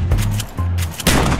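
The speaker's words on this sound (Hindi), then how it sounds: "फालतू में गोलियां क्यों चला रही है तू ये?" Gunfire in a video game, with loud, close bursts of rapid shots that repeat in short volleys and a brief pause between them. Nothing else is heard.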